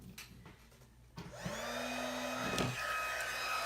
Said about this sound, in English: Anybody remember what setting I need to set my heat gun to?